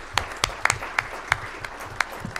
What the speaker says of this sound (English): Give them a round of applause on the way up.